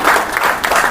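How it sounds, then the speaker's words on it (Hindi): Applause from an audience at an MSME Day event of the Indian Industries Association's Ghaziabad chapter, a short steady patter of many hands with no break, fairly loud and close. "इसके लिए हम अपने लिए ताली बजा सकते हैं।"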